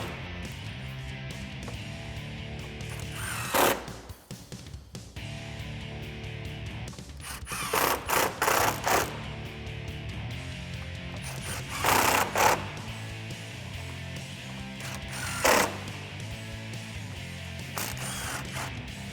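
A socket ratchet tightens bolts during a headlight install on a 2015-2017 Ford Mustang, in several short bursts of rapid clicking separated by quieter pauses, close and moderately loud.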